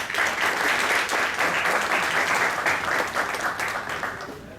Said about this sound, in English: Let's give him a round applause.